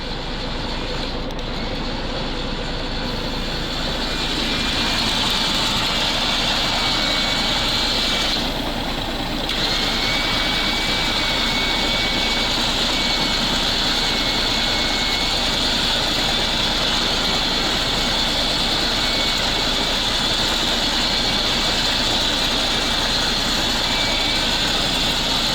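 A T-16 tractor with a manipulator engine runs steadily as the tractor slowly drives, a loud continuous droning hum that stays constant throughout with no talk.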